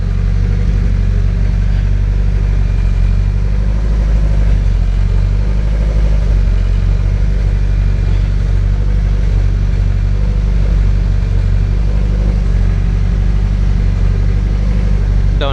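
The engine of a boosted EG car runs steadily while it warms up to oil temperature, giving a loud, close, constant low drone with no revving or talking.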